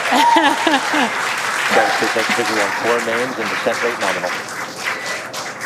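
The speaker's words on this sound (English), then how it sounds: "The crowd here at Mission Control in Hawthorne cheering." Crowd at SpaceX Mission Control in Hawthorne clapping and cheering in celebration, a lively mix of applause and raised voices with people talking over it.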